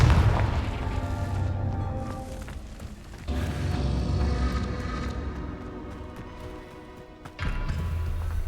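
A Confringo blasting spell explodes in Hogwarts Legacy with a loud, rumbling boom. The blast sits within dense, continuous battle noise, and a second heavy surge hits near the end.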